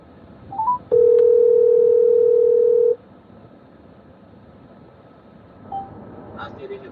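Telephone line while bridging a call: a few short dial beeps, then a loud steady two-second tone, followed by quieter line blips, with a voice briefly in the background.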